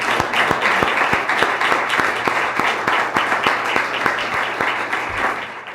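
Audience applause at a Minnesota State House District 54B candidate forum: steady, dense clapping from a crowd, loud and sustained throughout, with no talk over it.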